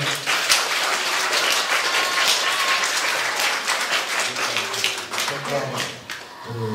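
Audience applause at a school year opening ceremony in Pińczów, a dense steady clapping from a crowd lasting throughout, with a faint voice near the end.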